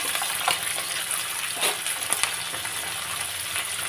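Prawns with salt and turmeric frying in a pan, made into a fry with taro, giving a steady close sizzle and crackle with a few brief louder spits, no talking.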